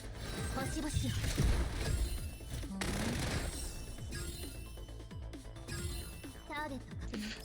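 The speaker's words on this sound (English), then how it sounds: "So you do Mort Lamina for the first attack" Gunfire-like bursts and mechanical clatter from the Mort Lamina attack in the video game Girls' Frontline 2 play in rapid succession, mixed with in-game voice sounds throughout.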